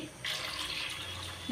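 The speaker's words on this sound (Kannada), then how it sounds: "ನೀರು ಹಾಕ್ತೀನಿ ರೀ ಈಗ ನಾನು ಇದಕ್ಕೆ" Water pouring from a tap or vessel into chakli dough made with fenugreek greens, a steady hissing splash running for over a second, close and moderately soft.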